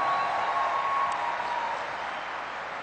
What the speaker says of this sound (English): Give a big round of applause to Prepaid Legal